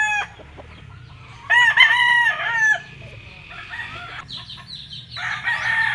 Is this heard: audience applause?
no